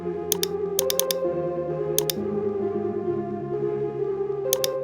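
Commands are typed on a computer keyboard in a few short clusters of crisp key clicks, set against a steady tonal musical background with no speech.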